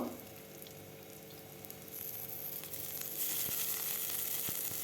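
Pointed gourd peels are dropped into hot oil with onion and green chili. A soft, close sizzle and crackle builds gradually, growing louder and brighter after a few seconds, with no talking.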